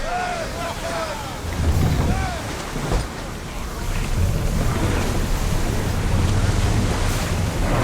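Ship under sail at sea in Assassin's Creed Odyssey: steady rush of waves and wind around the hull, with brief calls heard early on over the continuous water noise.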